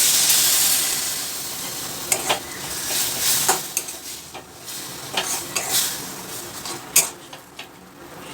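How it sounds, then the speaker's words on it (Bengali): A spice paste with Kashmiri red chilli powder and a little water fries in a pan for an aloo borboti curry, a steady sizzle broken by irregular scraping strokes of a spoon against the metal. "তাই এই মশলাটাকে আমি একটু সময় নিয়ে ভালোভাবে কষিয়ে নিচ্ছি।"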